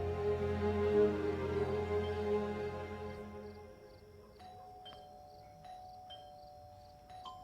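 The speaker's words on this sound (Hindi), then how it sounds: "वो भी लगातार घंटियां बजा ही जा रहा है" A doorbell chimes at night, a soft ding-dong tone fading out before a few faint repeated electronic rings, with quiet insect-like chirping in the background.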